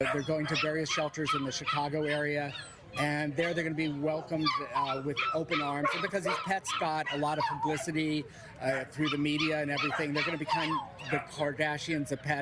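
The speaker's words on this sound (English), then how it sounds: "You could hear all that excited barking in the backdrop." Several dogs bark and whimper excitedly in the background, on a rescue flight bringing pets to shelters in the Chicago area, mostly buried under a continuous news presenter's voice.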